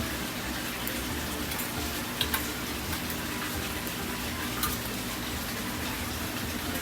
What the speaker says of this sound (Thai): น้ำในระบบอะควาโปนิกรบกวนนิดหนึ่ง